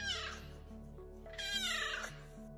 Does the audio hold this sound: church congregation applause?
no